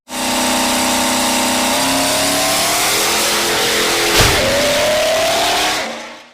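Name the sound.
supercharged twin-turbo 7.1 liter 427 Duramax diesel engine revving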